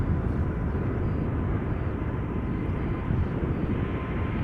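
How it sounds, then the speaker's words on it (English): Heavy jet airliners taxiing at Schiphol Airport give a steady, broad engine roar and rumble that holds constant at moderate level throughout, with no voices. "There are several now on their way over here, taxiing along the center runway around the northern threshold this time round."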